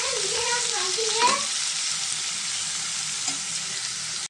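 Onions fry in oil for a mutton and cauliflower curry, a loud continuous sizzle that holds steady throughout, with a brief scrape of stirring early on.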